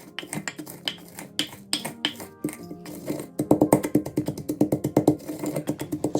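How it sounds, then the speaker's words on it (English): Green chili pieces, rock salt and turmeric powder are ground together in close, rhythmic knocking and scraping strokes. The strokes start irregular, then settle into a fast, even beat with no talking. "Now we're gonna grind them."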